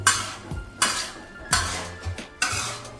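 Capsicum and onion being sautéed in a pan over a low flame for tawa veg pulao: a spatula scrapes and knocks against the pan in a steady rhythm, about five close, distinct strokes, with no voices.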